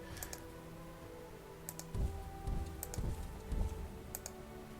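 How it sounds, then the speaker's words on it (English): Computer keyboard keys are pressed in quick, soft clicks in short bursts, faint and close, with no voices. "I'm hitting control when I mean to be hitting shift."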